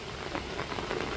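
Steady rain falling outdoors, a dense continuous patter of drops on surfaces with small splashes throughout, moderately loud and with no voices.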